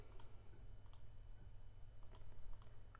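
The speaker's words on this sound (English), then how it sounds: "I'm actually going to type this part" Faint, quick clicks of typing on a computer keyboard, in a few short bursts over a low steady hum.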